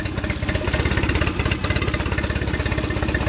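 A 2008 Tohatsu 9.8hp four-stroke outboard motor runs in forward gear with a close, loud, steady chugging, its rapid even pulses continuing throughout with a brief dip midway.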